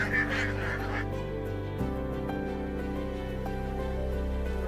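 Farm ducks being herded toward a rice field honk and quack loudly and close by, a dense overlapping chorus of nasal calls that keeps going throughout.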